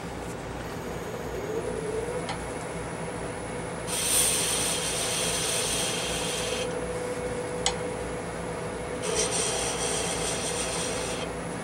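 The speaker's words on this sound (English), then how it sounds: "That's my skew up on edge, on the flat." Skew chisel held up on edge cutting a Corian faceplate on a wood lathe, giving a steady close scraping hiss with two louder, brighter cutting passes over the hum of the spinning lathe.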